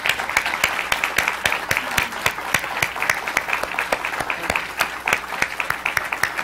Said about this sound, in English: please, a huge round of applause for Chris Claremont